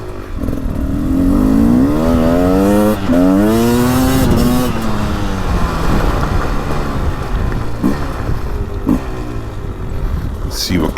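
Beta 300 two-stroke motorcycle from 2023/24, a race edition, revving up and down in a rising and falling whine, loud and close, with the engine note sweeping through several throttle rolls.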